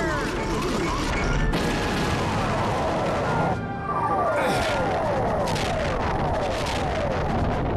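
Stealth Squadron fighters open fire in the Star Fox Assault video game: dense, continuous laser and cannon fire with booming explosions and descending sweeping zaps, loud and unbroken apart from a brief dip midway.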